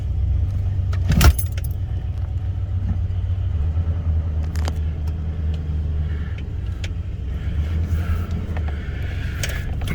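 A Toyota Camry ute engine runs with a steady low rumble that swells slightly as it is spun up, close and loud, with a brief jingle of keys near the start and no talking.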